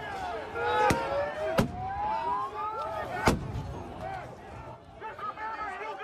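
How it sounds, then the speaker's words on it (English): Smoke bombs and flashbang grenades burst amid a chaotic crowd at the Capitol, with three sharp bangs cutting through the roar of shouting voices and continuous crowd noise. "There were smoke bombs going off and flashbang grenades already being thrown."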